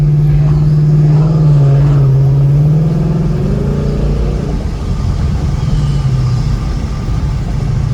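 A 2019 Ford Mustang GT with an X-pipe exhaust cruises through city streets, its V8 giving a loud, close, deep rumble that rises and falls gently as it pulls along.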